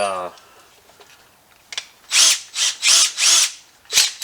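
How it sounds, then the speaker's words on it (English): A power drill whirs in four or five short, loud bursts while drilling out ball joint rivets on a 1993 Chevy pickup, each cutting in sharply against quiet background, after a brief faint voice at the start. "we're just going to start drilling through those rivets"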